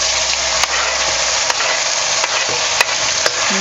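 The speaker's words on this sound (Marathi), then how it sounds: "आता तेल गरम झालेले आहे तर आपण यामध्ये घालूया जिरं कढीपत्ता घालूया आणि आपण इकडे मसाला वाटून घेतला होता ते घालायचं" Cumin seeds, curry leaves and ground masala fry in hot oil in a pan for a black pea usal, giving a loud dense hiss with a few light spatula taps spaced apart.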